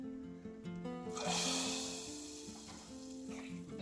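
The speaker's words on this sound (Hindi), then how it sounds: "डालिए घी, ऊपर से डालिए जीरा, हींग, और छौंक दीजिए अपनी दाल" Cumin and asafoetida hit hot ghee with a sudden loud sizzle that swells and then settles into a steady crackling fry, close and fairly quiet overall.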